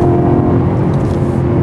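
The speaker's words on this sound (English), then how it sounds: "Listen to that engine." A 2011 BMW M3's engine revs loud and close on a twisty road, a steady throaty roar held without letup.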